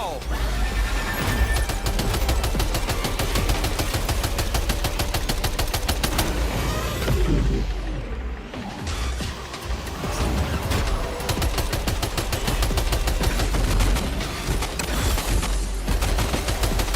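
Video game gunfire rings out while driving, rapid bursts of shots cracking over the engine noise from start to finish, loud and dense, with a brief lull near the middle.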